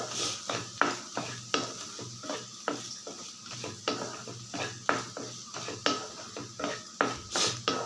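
A spoon scrapes and clatters against a pan while snake gourd poriyal, a dry stir-fry, is tossed. The strokes come close and rhythmic, roughly two per second, with a faint sizzle underneath.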